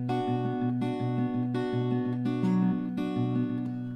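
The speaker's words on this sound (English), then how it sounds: "I'll put together the intro sound like this." An electric guitar plays the fingerpicked intro of a song: clean, evenly paced plucked notes ringing over one another, close and alone.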